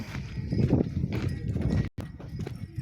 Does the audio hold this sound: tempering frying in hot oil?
no